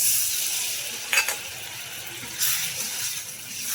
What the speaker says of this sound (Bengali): এখন মশলাটা ভালো করে নাচাড়া দিয়ে এক মিনিটের মতো কষিয়ে নেব